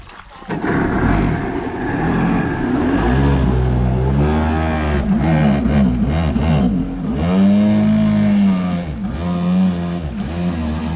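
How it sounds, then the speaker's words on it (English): A two-stroke Yamaha 650 WaveJammer watercraft engine revs up and down repeatedly, loud and close, its pitch rising and falling in buzzy surges with no talking. "It sounds like a two-stroke."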